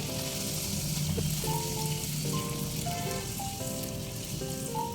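Hing kochuri fry in hot oil, giving a continuous close sizzle and bubbling crackle that holds steady throughout, alone with no talk.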